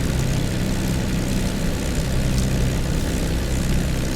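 A P-51D's Merlin engine runs steadily in a DCS flight sim, a loud, constant low propeller drone with a rough rumble and no pauses or speech.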